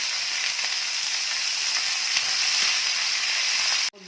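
Chopped onions fry in hot oil with a little sugar and salt, softening in the pan; an even, bright sizzle runs close and loud throughout, cutting off sharply at the very end.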